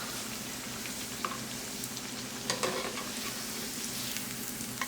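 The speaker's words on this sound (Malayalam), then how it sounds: "ഇപ്പോൾ ഫ്രൈ ആയി വന്നിട്ടുണ്ട് കേട്ടോ." Rice flour appam (thanneerappam) fries in hot oil with a soft, even, continuous sizzle and occasional faint pops, close and unbroken, with no voices.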